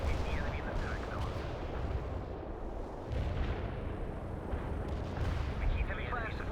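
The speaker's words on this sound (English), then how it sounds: "Deploy and lay down a heavy artillery strike on the way." A heavy artillery strike from World in Conflict rolls on as dense, continuous rumbling blasts and booms, with a voice talking under the barrage.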